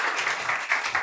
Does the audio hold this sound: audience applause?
yes